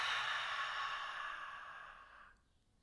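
A slow, deep breath let out through the mouth after Kapalabhati breathing practice, a soft breathy rush near the listener that gradually fades to silence, with no talking.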